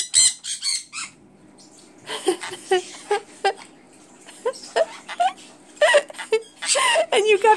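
A pet bird chirps and squawks in repeated short bursts, close by, with a person talking over and between the calls while the bird bobs and dances.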